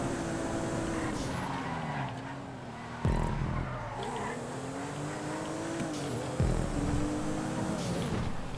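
SUVs racing in GTA 5, a steady droning engine roar with shifting pitch, two abrupt loud bursts like impacts or gear changes, and commentary voices over the top.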